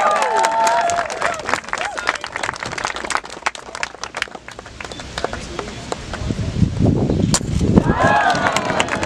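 Wedding guests break into loud, dense clapping and cheering that fills the room, swelling again toward the end, with scattered voices mixed in.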